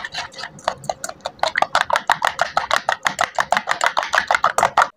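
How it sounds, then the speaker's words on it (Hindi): Egg paste with salt and crushed red chilli being mixed briskly in a bowl, a fast run of close, crisp tapping and clicking strokes that steadily quicken and grow louder, with no talk. "अब इसको हम अच्छी तरह मिक्स करेंगे"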